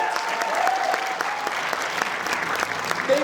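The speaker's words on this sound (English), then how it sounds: "Let's get another round of applause for Rima and as well as the entire cast for this amazing" Audience applause closes a final stage performance by a cast at a showcase event, steady dense clapping filling the room throughout with no voices over it.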